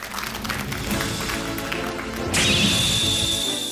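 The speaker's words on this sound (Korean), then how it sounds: "두 번째 이야기꾼 박수로 환영하겠습니다" A crowd claps steadily and densely, loud and close, with a bright tone rising midway through and continuing over the applause.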